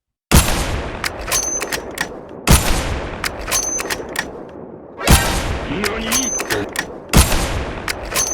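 Four loud, spaced single rifle shots in a video game, evenly timed a couple of seconds apart, each a sharp close crack with a ringing tail and mechanical clatter between shots.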